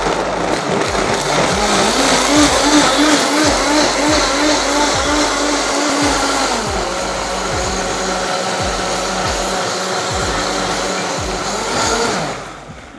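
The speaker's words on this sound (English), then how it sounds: "now we're going to blend" A blender whirs through roasted tomato soup, a loud, steady motor drone that shifts pitch partway through and winds down near the end of about twelve seconds, with no talking.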